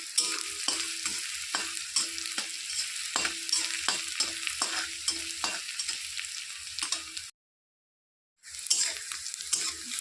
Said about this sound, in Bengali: কাঁচা দিয়ে একটু নেড়ে চেড়ে দিতে হবে ভালো করে পেঁয়াজটা যেন একটু ভাজা ভাজা হয়